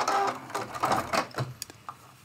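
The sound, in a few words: sewing machine stitching applique ornament seam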